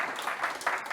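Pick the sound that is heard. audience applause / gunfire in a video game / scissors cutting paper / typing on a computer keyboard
audience applause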